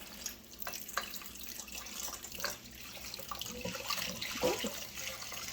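Liquid poured into a soup pot over medium-low heat while making cream of asparagus soup: a faint, continuous splashing trickle with small bubbling and clinking sounds, heard alone.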